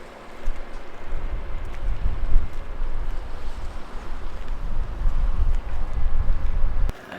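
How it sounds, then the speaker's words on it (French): Wind and waves by the water at night near Montmorency Falls and Île d'Orléans, a steady low rushing roar with soft surging wash, close and unbroken with no talk. "On entend un petit peu le vent, les vagues."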